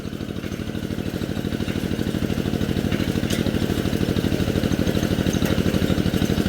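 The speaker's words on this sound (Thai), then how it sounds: "อันนี้เพิ่นเจาะเมตรชุดท้าย ครบ40 เมตร" A truck-mounted drilling rig bores the final meter of a 40-meter groundwater well, its engine running with a steady, rapid mechanical pulsing and clatter, loud and close, with no talk.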